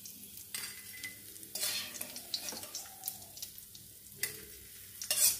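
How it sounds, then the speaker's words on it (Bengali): Lentil dumplings (bori) fry in hot oil for a vegetarian bottle gourd leaf dish, giving a steady close sizzle broken by repeated stirring scrapes and a few brief clatters, with no talk. "এই যে বড়িগুলো মোটামুটি ভাজা হয়ে গেছে।"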